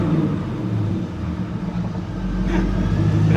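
A C5 Corvette fitted with a Borla S-Type cat-back exhaust, still on factory cats and stock manifolds, rumbles at idle with a deep steady drone that swells as the engine revs up near the end.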